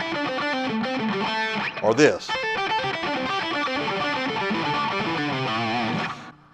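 Distorted electric guitar runs through fast, bluesy pentatonic licks, loud and continuous for about six seconds, with a brief spoken remark partway through.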